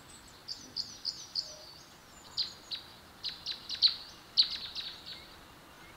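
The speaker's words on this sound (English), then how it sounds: "We can hear the birds." Birds chirp at a bird feeder in short, bright tweets, a dozen or more calls spaced irregularly, moderately near and alone over a quiet background.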